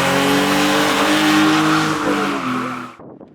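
A drift car at a drift competition held on a public hill climb road screams at high revs with a loud, sustained engine whine and tire noise, close by, then cuts off abruptly near the end.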